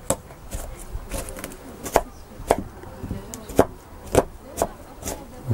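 A knife chops vegetables into very small pieces on a board, sharp irregular knocks spaced roughly every half second, close and fairly quiet over a faint background hum.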